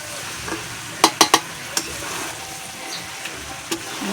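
Country chicken braising and frying in a pan, with a faint steady sizzle under a few sharp clicks and scrapes of stirring, one quick cluster near the start and a lone tap toward the end.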